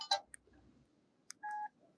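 Phone on loudspeaker dialing a call: a few short touch-tone beeps, then a steadier tone lasting about a quarter second, faint and close, with near silence between them.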